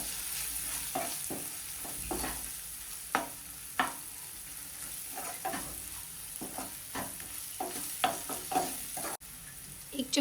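Coriander-cumin powder, garam masala and garlic red chili paste stirred and frying in a pan for potato spinach curry, with steady background sizzle and repeated scraping strokes of a spoon through the masala.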